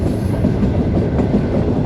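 A Green Line passenger train travels from Bahawalpur to Lahore in Pakistan. Heard from inside an AC Standard carriage, it gives a loud, steady rolling rumble with soft rhythmic rail clatter.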